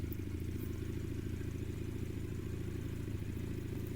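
A steady, dense engine drone from a vehicle in the game Trailmakers, running continuously at an even level with a low rumble throughout and no voices.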